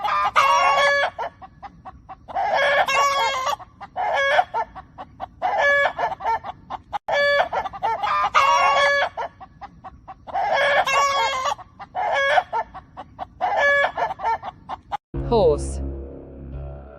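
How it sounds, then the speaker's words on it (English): A rooster crows over and over while a chicken clucks, in repeated loud, close farmyard bursts separated by short pauses, before a different sound cuts in at the end. "Chicken."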